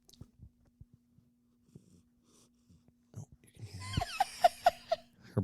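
Soft, quiet breathing and snuffling from an animal, followed by a burst of rapid rhythmic wheezy panting, close to the microphone.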